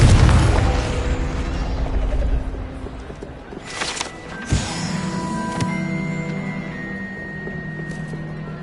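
A Confringo blasting spell in a video game, a loud booming blast at the start that decays into rumbling debris, followed by sharp pops and ringing, shimmering magical tones that fade away, with no talking.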